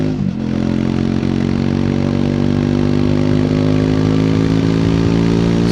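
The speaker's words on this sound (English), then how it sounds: "Some airbox noise, some exhaust noise." A 2024 Triumph Speed 400 single-cylinder motorcycle on the road, its engine and exhaust droning loud and constant with airbox noise, holding a steady rough hum throughout without speech.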